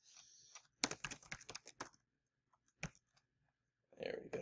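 Quick bursts of clicking keystrokes from a computer keyboard as a search is typed, a dense run of taps followed by a few isolated clicks, close and fairly quiet, with a short burst of speech near the end.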